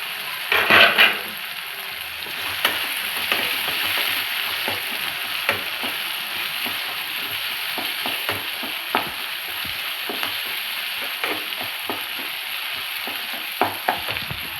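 Tomatoes simmer in a lidded pan for okra gojju, giving a steady broadband sizzle with scattered small pops and light clicks throughout, moderately close and with no voices.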